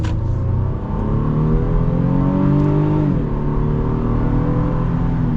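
A 2024 Honda Pilot Trailsport accelerates, its engine a steady loud drone that rises in pitch, dips briefly as it shifts, then climbs again, heard from inside the vehicle.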